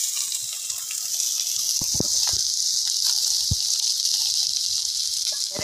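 Shrimp hit a hot pan for a cabbage dish and fry with a steady, bright sizzling hiss. Scattered crackles and pops run through it, close and continuous, with no talking.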